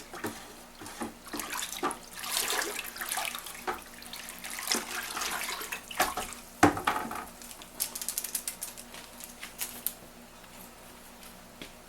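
Bottled water poured into a jug while making homemade wine coolers, a steady splashing pour close by with uneven bursts and gurgles, heard alone.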